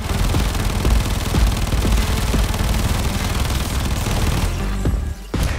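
Tenora Prime weapon firing in Warframe, a loud sustained stream of rapid automatic shots with dense overlapping impacts, cutting off briefly near the end.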